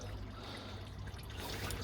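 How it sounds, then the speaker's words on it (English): Coolant trickles steadily into the tank of a diesel P38 Range Rover during water pump and fan belt work, a faint continuous dribble over a low background hum with no talking. "you probably can't even see it dripping into the bloody tank"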